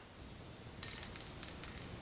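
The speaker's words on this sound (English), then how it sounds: "we're going to spray our adhesive first" Spray adhesive hisses in a faint, steady stream onto a mounting board, with a few soft sputters in the second half and no voices.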